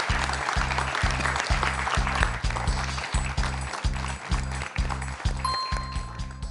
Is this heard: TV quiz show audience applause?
yes